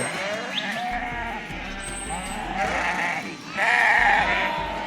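Goats on a goat farm bleating at feeding time, several overlapping calls rising and falling over a steady farmyard background, fairly close and loud, with the loudest bleats near the end.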